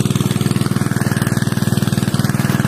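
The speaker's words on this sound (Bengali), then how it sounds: "তো গাইস মেশিন স্টার্ট হয়ে গেছে, জল বেরোচ্ছে" A small engine-driven water pump chugs steadily at close range after starting, pumping water out toward a wetland, with a fast, even rhythmic pulse throughout and no voices.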